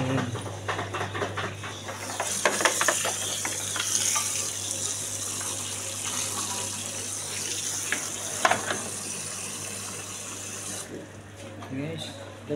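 Steady water running inside an LG front-load washing machine during a drum cleaning, a continuous moderate hiss and splash with a low constant hum beneath, no clear talk over it.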